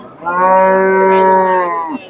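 A Friesian dairy cow, six-toothed, gives one long, loud, steady moo lasting about two seconds at a cattle market, close by and with no talk over it.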